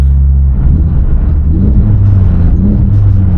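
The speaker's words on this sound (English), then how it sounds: "Lowering the rev range, you get a bit of a, for lack of a better word, the honk." A Renault Clio 197 fitted with a Sprogley STX induction kit revs at low engine speed, giving a deep, loud intake honk with rising and falling engine tones close by, with no talking.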